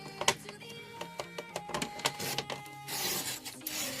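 Paper guillotine with a worn, dull blade chopping through card in a series of sharp crunching, rasping cuts, fairly close, ending in a longer scraping drag with no talk.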